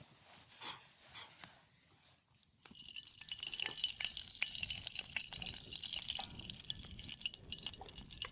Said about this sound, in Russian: Масло у нас закипело.